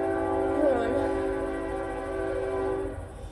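A passing train sounds its horn with a sustained steady blare over a continuous rolling rumble, loud and fairly near, fading slightly at the end.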